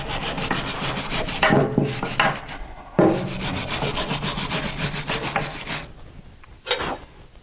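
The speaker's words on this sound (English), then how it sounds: "We're just going to take and run the wire brush in through there." A wire brush scrubs hard against the front disc brake parts of a 2012 Scion xD, giving close, raspy strokes that come in bursts with short pauses between them and then fade out.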